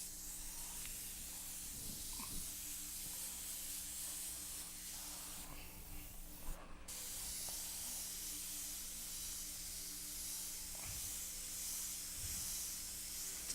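An airbrush spraying paint gives a steady, soft hiss that runs through the whole stretch, with a brief louder burst midway and faint handling noises around it.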